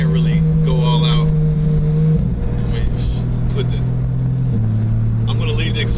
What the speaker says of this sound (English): I'm gonna leave the exhaust open in sport mode, so you just can hear what it sounds like in regular driving